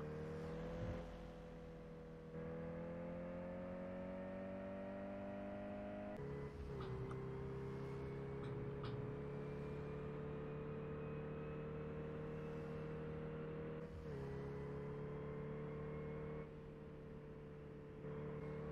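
Steady engine drone of a car being driven in the Turkish-made simulation game Drive 21, holding a constant pitch with brief shifts and drops as it runs on, loud and alone with no talk.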